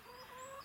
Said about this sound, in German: das ist mein Huhn